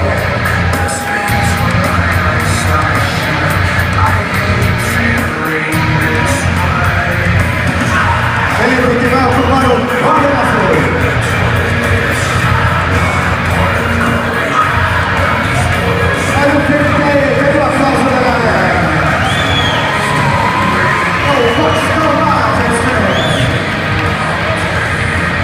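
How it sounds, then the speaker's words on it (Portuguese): A crowd at a boxing event yells and cheers for boxer Felipe dos Anjos Matos, a dense, loud roar of whoops and shouts that holds throughout with an announcer's voice mixed in. "Os aplausos para Felipe dos Anjos Mato."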